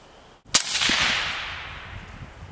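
A single suppressed shot from a 5.56 AR15 with a 16-inch barrel and an XCaliber Mountaineer-D silencer on an adapter: one sharp crack after a brief silence, then a long, fading outdoor echo tail.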